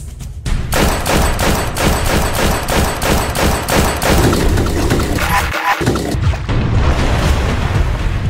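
Film gunfire in a martial-arts action scene: loud, rapid, sustained shots that merge into a dense, continuous barrage lasting several seconds with no pauses.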